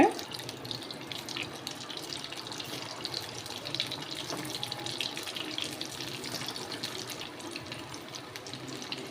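Mealmaker (soya chunk) balls deep-fry in oil over a medium flame, a dense continuous bubbling sizzle heard close and unbroken for several seconds with no voices.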